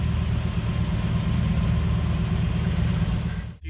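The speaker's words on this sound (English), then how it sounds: "This thing's a 4-liter, 5-speed manual, making all kinds of noises." A Jeep TJ with a 4-liter engine and 5-speed manual idles steadily with a dense low rumble, close and constant, then cuts off abruptly at the very end.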